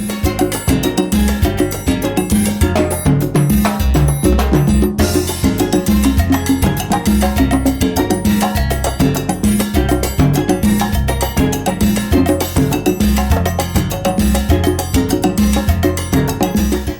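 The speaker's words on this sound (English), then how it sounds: "But with Luisito's use of the cowbells, a lot more coloration is possible" Dense percussion groove with bright metallic cowbell strikes over steady drums and bass, loud and continuous throughout, no voices.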